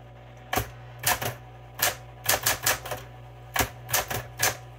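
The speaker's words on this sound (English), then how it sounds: "I'll go ahead and type a sentence so you can see the action of it" Electric typewriter keys strike in quick bursts of several sharp clacks with short pauses between, on a blue vintage Smith Corona Coronet Super 12, close and loud over a steady motor hum, no talking.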